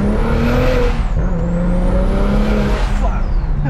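A turbocharged 700hp BMW 335i engine, loud and close, revving hard with a rising and falling pitch and a high turbo whine sweeping above the roar; voices are faintly present.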